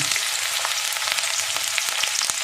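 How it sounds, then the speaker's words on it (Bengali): Chopped medium onion fries in hot oil with a bay leaf, giving a loud, steady, close sizzle with faint crackles and light stirring throughout, no voices. "পেঁয়াজটা একটু ভেজে নেব।"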